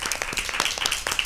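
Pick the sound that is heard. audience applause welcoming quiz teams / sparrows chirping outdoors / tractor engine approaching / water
audience applause welcoming quiz teams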